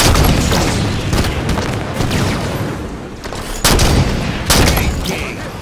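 Enemy gunfire and explosions in Halo 5 keep up a dense, loud barrage of shots and booming blasts, with several heavy impacts standing out over continuous battle noise.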